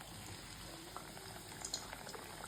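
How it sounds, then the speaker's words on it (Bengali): Luchi, a puffed flatbread, fries in hot oil with a faint, continuous bubbling sizzle and small pops, low in level and steady throughout, with no talking. "এদিকে লুচি ভাজা হচ্ছে, গরম গরম লুচি"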